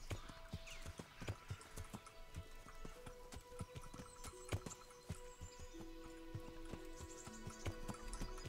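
Horse hooves clip-clop in a medieval video game, a quiet, steady run of hoof strikes at a walking pace with faint tonal game sounds behind them and no speech.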